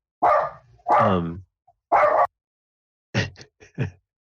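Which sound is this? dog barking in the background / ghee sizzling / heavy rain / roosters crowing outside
dog barking in the background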